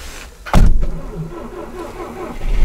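A car engine is cranked and starts in freezing weather, with a sharp catch followed by a rough, low running rumble that stays fairly loud and close.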